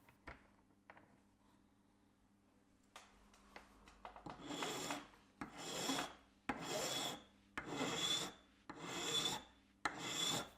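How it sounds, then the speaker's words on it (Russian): A hand file rasps across metal on a homemade clamp with a bronze plug, starting with faint scrapes and then settling into about six loud, even, rhythmic strokes close by. "Снял лишний материал напильником"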